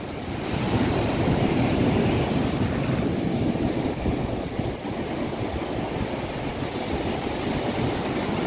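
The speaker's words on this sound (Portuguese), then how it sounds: "Tá ventando muito, o celular não para" Strong wind buffets and roars across the microphone, mixed with a steady wash of surf, loud and continuous with no voices, on a beach at Penha, Santa Catarina, Brazil.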